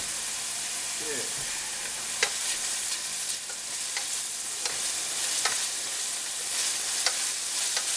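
Sautéing onions sizzle steadily in a frying pan for a steak dinner with peppers and mushrooms, a constant bright hiss broken by occasional crisp pops and a brief stir.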